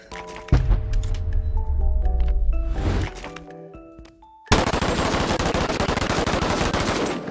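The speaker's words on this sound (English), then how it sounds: "AK-74. AK. Pun unintended. AKA the submachine gun variant, of course." AK-74 submachine gun variant in Bonelab VR game, loud mechanical clacks and handling sounds at first, then a sudden sustained burst of rapid automatic fire over the last few seconds.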